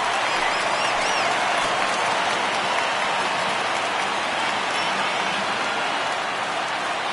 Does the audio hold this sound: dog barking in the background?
no